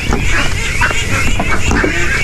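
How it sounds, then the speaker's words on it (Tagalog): A flock of ducks quacking loudly and continuously, many overlapping calls close by. "At itong mga itik."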